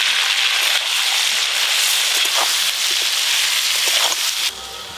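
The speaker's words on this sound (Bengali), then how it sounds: "তেল খুব ভালো করে গরম হয়ে গেছে প্রথমে ফুলকপি গুলো ভালো করে ভেজে নেবো" Cauliflower pieces frying in very hot oil in a pan, a loud, dense, continuous sizzle and crackle close up, easing slightly at the very end.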